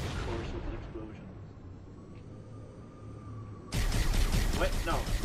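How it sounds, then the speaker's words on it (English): An explosion in Halo Master Chief Collection erupts suddenly after a quieter stretch, a loud broadband blast that keeps rumbling and crackling to the end. "Of course, with an explosion."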